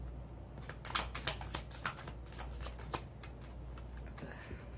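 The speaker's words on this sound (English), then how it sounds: "hard to shuffle in this position." Tarot cards are shuffled by hand, a quiet run of crisp riffling snaps and flutters repeating steadily, near but faint.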